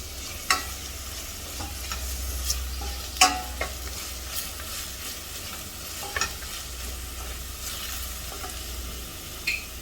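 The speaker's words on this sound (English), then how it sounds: "Ghee, onion, Now we're going to add in the tomatoes." Tomatoes go into a pan of frying ghee and onion for Hyderabad vegetable dalcha. There is a continuous close sizzle with a low hum and occasional sharp clinks and scrapes of a spoon, and no one speaks.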